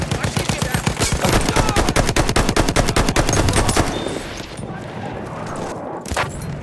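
Rapid automatic fire from an M1907 SL Sweeper in the Battlefield 1 video game, Conquest mode at Fort de Vaux, a loud fast burst of close shots lasting several seconds, then quieter ambience and a lone report.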